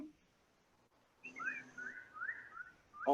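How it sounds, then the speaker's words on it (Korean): Birdsong outdoors near trees, picked up over a phone call: a few clear whistled bird phrases rise and fall across the second half, fairly faint and distant, with no talk. "이 새소리 멋있다"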